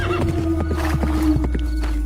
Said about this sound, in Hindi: घोड़े पर सवार होकर ज्ञानचंद दूसरे राज्य की सीमा में चला गया